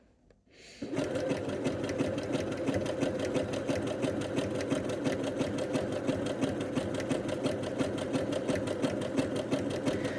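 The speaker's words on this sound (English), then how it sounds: "And then you're going to sew round, and it's one of those things that helps if you go a little bit slower" A Britannia sewing machine runs steadily with a satin stitch foot, sewing fabric in a fast, even mechanical chatter that starts after a brief quiet moment and continues loud and close throughout.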